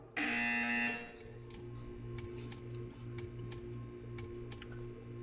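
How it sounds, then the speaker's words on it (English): A loud electronic buzzer in the video game Portal 2 sounds for about a second, steady and harmonic, then gives way to a quiet background hum with faint clicking and tapping sounds. "When you hear the buzzer, stare at the art."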